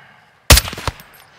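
Sniper rifle fire in Call of Duty Modern Warfare 2 during a prison break mission: one sharp, loud shot after a quiet pause, with a short rumbling tail and a second crack starting at the very end.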